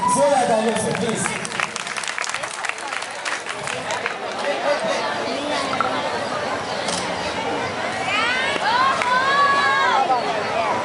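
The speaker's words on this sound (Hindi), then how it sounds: "एक बार जोरदार तालियों से इनका अभिनंदन करिए प्लीज" Audience applause greets a short stage play, broad clapping and crowd hubbub that continues throughout, mixed with chatter and a few raised voices.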